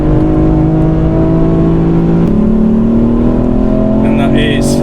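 The three-cylinder engine of a 290 bhp Ford Fiesta ST Mk8 revs loud and steady on a race track, heard from inside the car as a continuous droning engine tone that climbs in pitch, with a voice talking over it.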